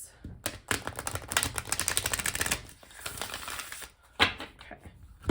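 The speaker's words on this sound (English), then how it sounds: "So we'll do one more shuffle here, and then I will cut the deck for us." A deck of tarot cards is shuffled, giving fast riffling bursts of crisp flutters followed by a pause and a few sharper taps as the cards settle, close and fairly quiet.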